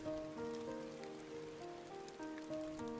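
Rain falls steadily as a sound effect in a children's story, soft even patter under gentle background music with no voices.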